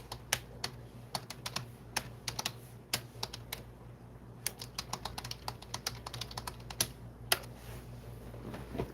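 Someone types on a computer keyboard at a chain maille craft session, giving a close, steady patter of crisp key clicks in uneven bursts with short pauses and no talk.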